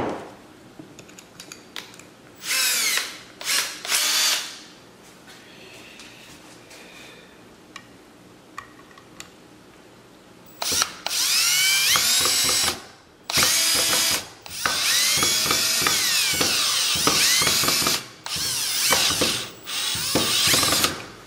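A power drill drives deck screws into 2x4 lumber for a pickup-truck fuel can holder: loud whirring bursts of a few seconds each, with quieter handling noise in between and longer runs toward the end.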